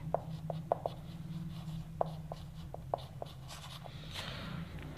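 A pen writes out a math solution on paper, giving soft, irregular scratching strokes and taps close to the mic over a steady low background hum.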